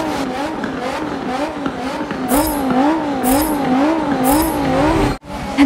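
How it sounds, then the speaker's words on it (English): Race cars launch at the start of a Forza 7 race at Barcelona's Circuit de Catalunya, engines revving in rising and falling waves, tires squealing in bursts, a loud dense pack of cars heard without talk. "And we're off and racing, and Sophitia gets a great start."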